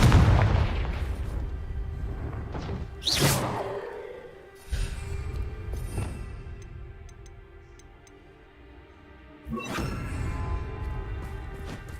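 Confringo explosive spells cast in the video game Hogwarts Legacy: several sharp blasts with whooshing tails, spaced a few seconds apart over a ringing, ticking game ambience.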